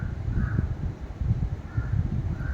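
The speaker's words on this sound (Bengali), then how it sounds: "ওই দেখো কাক" Crows call from near a home kitchen, a few harsh caws rising over a steady background murmur, loud and fairly close.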